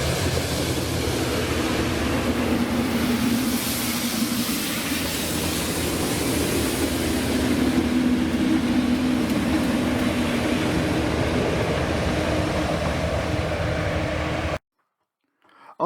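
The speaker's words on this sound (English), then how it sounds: "It's actually the railhead treatment train on its way to Cromer, with 2 vintage Class 37s in charge." Railhead treatment train on the line to Cromer, hauled by two vintage Class 37 diesel locomotives, giving a steady, loud, broad engine rumble and rolling drone that holds for about fourteen seconds before cutting off abruptly.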